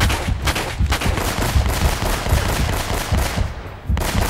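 Dense, rapid machine-gun bursts in Uncharted: Drake's Fortune, a nearly continuous rattle of loud shots with short gaps, close and dominant with no talk.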